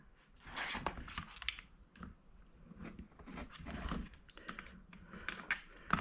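Scissors snip through fabric for Christmas potholders in a run of quiet, close crisp cuts and rustles, with no talk over them.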